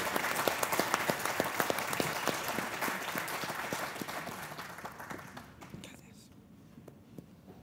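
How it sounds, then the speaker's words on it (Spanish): Audience applause at a book presentation, a dense burst of many hands clapping that thins and fades toward the end, with faint murmuring underneath. "te expresamos esa solidaridad con nuestro mejor aplauso"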